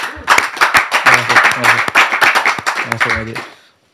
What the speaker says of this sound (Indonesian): Tepuk tangan dulu buat Gus Romel.